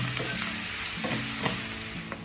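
Chopped onion and garlic sizzle and fry in a pan for a brinjal masala rice, with a spoon stirring and scraping in several distinct strokes over a steady, close hiss.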